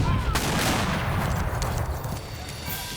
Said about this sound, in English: The Battle of Palo Alto began with the roar of cannon fire and quickly turned into an artillery duel.